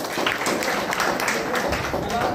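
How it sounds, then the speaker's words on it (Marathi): An audience at a credit cooperative gathering in Maharashtra claps, a dense burst of applause that runs the whole moment, with voices mixed in. "बघा याच्यासाठी जोरदार टाळ्या आवाज"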